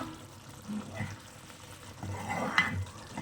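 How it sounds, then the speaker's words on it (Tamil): Prawn fry gravy simmering in a pan gives a soft, steady bubbling and sizzle, with a few louder stir-like swells partway through and a faint voice underneath. "கிரேவி வந்து சூப்பராக கொதிச்சிருக்கு"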